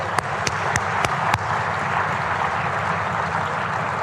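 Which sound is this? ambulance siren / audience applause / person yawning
audience applause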